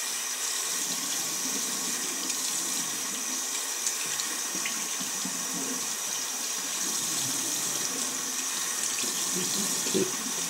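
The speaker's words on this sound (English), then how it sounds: "See, now the water is running clear." Tap water runs steadily into a sink while makeup brushes are rinsed, a constant close hiss and splash with small clinks and handling sounds underneath.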